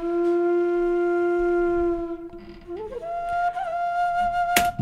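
A New York drill sample loop built in FL Studio, played dry and unmixed: sustained tonal synth or vocal-like lines that bend and shift partway through, ending with a sharp bright burst, with no talking over it.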